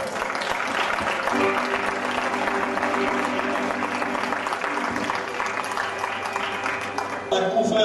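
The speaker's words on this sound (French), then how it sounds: "on l'applaudit" Audience applause at a local celebration fills the whole stretch, a dense, steady wash of clapping from a large crowd that cuts off abruptly near the end.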